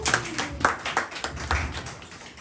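A fitness and wellness club audience in Manchester claps for a woman being introduced, with scattered individual claps and a few sharper hits over a short stretch, moderately close, with a faint murmur beneath.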